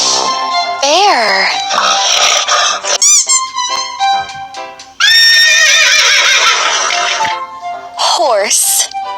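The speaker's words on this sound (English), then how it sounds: "H-O-R-S-E, horse" Horse neighing in a children's animal learning song, loud whinnies with squealing rises and falls mixed with bright music throughout.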